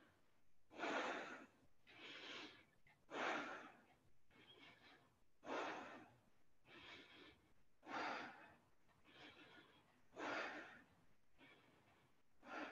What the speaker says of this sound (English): And deep breathing here.